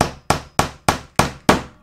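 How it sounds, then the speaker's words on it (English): Hammer driving pins into soft framing wood while preparing a painting canvas, six sharp, evenly spaced strikes, each with a quick decay, loud and close with no talking. "we just hammer it in like that"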